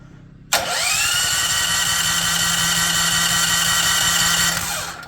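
A Champion generator engine cranks and runs steadily after carburetor cleaner has been sprayed into it. A sharp onset brings a loud, even mechanical drone that holds for about four and a half seconds and then cuts off. No one speaks over it.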